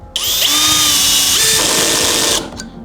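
A Dnipro-M CD-201HBC Compact cordless drill-driver drives a self-tapping screw into timber in first gear, with the clutch set to position one. Its motor whine sounds loud and close and rises in pitch as the screw seats, then stops abruptly.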